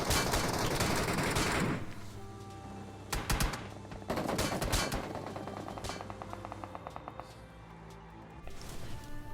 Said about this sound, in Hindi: 2-3 बंदे MK और MG3 से फायर करते हैं